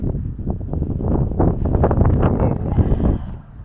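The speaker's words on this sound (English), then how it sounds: "Sorry if you hear any of the wind, because the wind is vicious." Strong, gusty outdoor wind buffeting the microphone in a loud, continuous low roar that surges and rustles for several seconds before easing slightly at the end.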